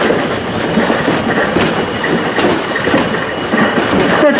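Virginia and Truckee No. 29 'Robert C. Gray' train rolling steadily along the rails, a loud, continuous rumble with faint rhythmic clickety-clack from the wheels, heard from on board with no voices.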